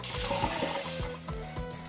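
Warm tap water running steadily into a container for a salt brine topping for focaccia bread, a continuous close splashing hiss with no talk.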